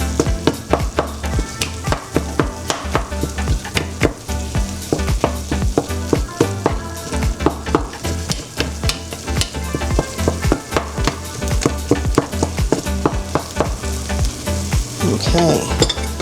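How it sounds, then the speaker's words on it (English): Tortillas brown on an electric skillet with a loud, constant frying sizzle, dense crackling and frequent scraping stirs throughout, close up and with no voices. "they'll be using the electric skillet to brown the tortillas"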